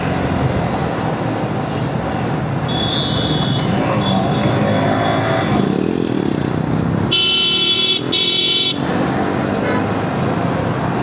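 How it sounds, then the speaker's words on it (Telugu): A vehicle horn honks twice in short bursts behind motorcycles (Yamaha R15 V3, MT15, Bajaj NS400) on a night road ride, over a constant loud roar of wind and engine noise. "నాకు ఎందుకో హార్న్ వినిపించింది"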